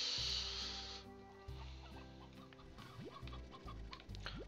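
Chickens clucking in the farming game Slime Rancher, a run of short clucks and squawks over a low synthetic game hum, fairly close and moderately loud, with no talking.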